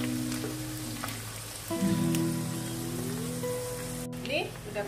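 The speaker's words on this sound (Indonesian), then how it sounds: "Ini kita mau menggoreng terinya ya." Small teri anchovies sizzle in hot oil while frying until crisp and brown, a continuous rain-like crackle heard close, with background music playing over it.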